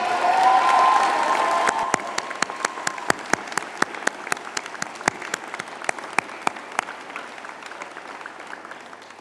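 An audience applauds at a university graduation and commencement ceremony in Switzerland. Steady massed clapping starts loud and fades into scattered, sharp individual claps that taper off over several seconds.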